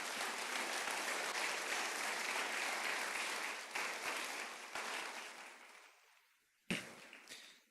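A church congregation applauds during a Spanish-language sermon, a dense, steady wash of clapping that carries for several seconds, then fades out into a brief silence before a sharp knock and a short burst of clapping.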